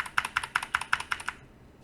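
Computer keyboard keys, the bracket keys used to resize a brush while painting, are tapped about seven times in a quick, even rhythm, close and crisp, then fall quiet.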